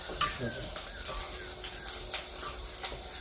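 Soaked poha tipped into a pan with cooked potato and stirred, giving a close sizzle with scraping, clattering spoon strokes and small knocks, no talk.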